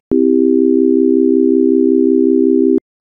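A smooth, steady synthesized chord in just intonation rings for about three seconds at even loudness without any wavering, then stops with a click.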